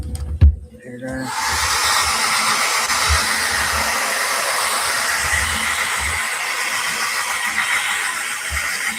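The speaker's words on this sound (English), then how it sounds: "Hair dryer." After a brief click and clatter, a hair dryer switches on to dry sealant on painted busts, blowing with a steady, loud rushing hiss that continues throughout.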